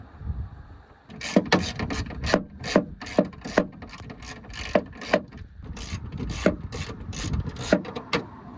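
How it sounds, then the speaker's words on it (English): A Torx wrench works bolts loose on a Ford F-150 bed, giving a run of sharp, evenly spaced ratcheting clicks over a close scraping, rubbing noise, loud and near with no talking. "we're going to take our Torx wrench. We're going to go ahead and undo these 2."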